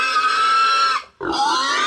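Loud, shrill squeals from a pig during traditional butchering in Jamaica: two long piercing cries close up, separated by a brief gasp of silence.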